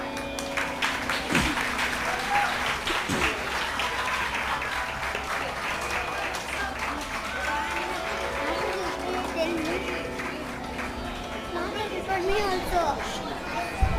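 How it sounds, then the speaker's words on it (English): An audience at a children's talent day at a cultural camp claps steadily in a dense patter, with chatter and voices mixed in across the hall. "give them one more huge round of applause"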